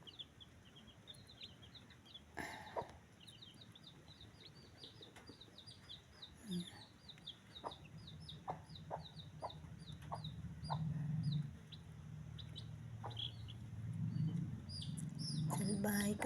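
A mother hen on a farm gives soft, repeated clucks at close range, with faint chick peeps and a few louder rustling thumps, quiet overall.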